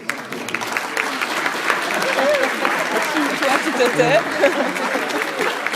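An audience at a talk by an elder applauds, a dense wash of clapping that fills the room while a voice speaks briefly over it.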